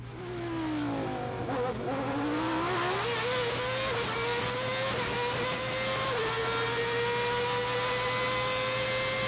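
Formula One car at the 1990 Monaco Grand Prix, heard from onboard as the engine screams continuously, its pitch dipping and climbing through gear changes on the street circuit, loud and close throughout.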